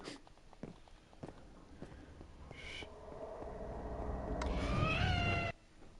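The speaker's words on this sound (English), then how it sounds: "That sounds like a cat just like tried to attack me." A cat-like attack yowl in Minecraft on a horror map: a wavering, rising screech swells near the end over soft footsteps and game noise, then cuts off abruptly.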